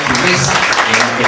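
An audience at a book presentation applauds, a dense burst of clapping filling the short moment, with a voice partly mixed in.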